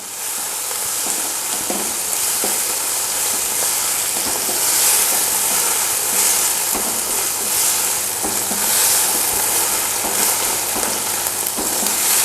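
Fried chicken sizzles steadily in a hot pan for chilli chicken, with loud continuous frying and occasional stirring scrapes throughout and no voices.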